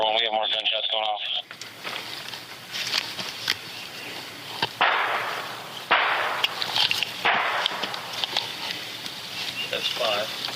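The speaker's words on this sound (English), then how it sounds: "That's another gunshot. Did you hear that?" Sharp gunfire cracks from a neighborhood shooting in Norman, with several separate reports spread across the stretch amid radio chatter and outdoor noise, fairly distant rather than close.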